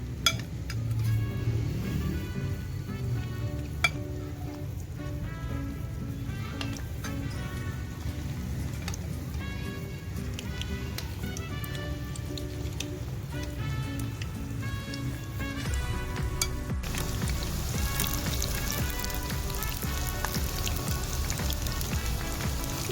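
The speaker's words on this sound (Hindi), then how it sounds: "आइए अब इसको डीप फ्राई करने की तरफ चलते हैं। मैं इसे मस्टर्ड ऑयल में करूंगी" Cauliflower pieces deep frying in hot mustard oil give off a continuous crackling, sizzling hiss like steady rain, close and fairly loud throughout, with occasional small pops and no voices.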